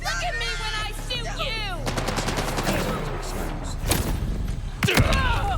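Gunfire in the Borderlands 4 video game, rapid bursts of automatic shots with chirping electronic weapon effects and a heavy blast near the end, close and loud, mixed with a voice speaking over it.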